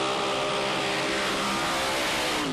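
A nostalgic hot rod's engine revs loudly and up close, with a dense, raspy roar that stays strong and continuous throughout, with no talk.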